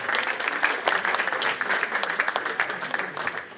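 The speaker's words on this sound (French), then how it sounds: "on peut l'applaudir" Moderately quiet applause from an audience at an evening event, a dense, even patter of clapping lasting a few seconds with no voices on top.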